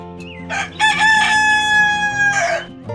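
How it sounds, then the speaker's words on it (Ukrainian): A rooster crows loudly and close by, one long drawn-out cock-a-doodle-doo with a few soft clucks around it. "А півник у досвіда встане."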